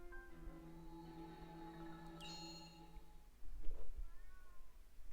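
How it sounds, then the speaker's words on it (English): A house cat meows at the door to be let in, a few drawn-out calls close by, followed by a louder rustle or thump near the end. "my cat wants in"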